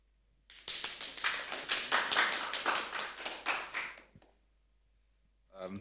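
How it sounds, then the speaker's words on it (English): Audience members at a startup founders' program event clap for a presenter in a dense, even burst of about three and a half seconds that stops abruptly, followed by a brief voice. "Round of applause to Yaroslav"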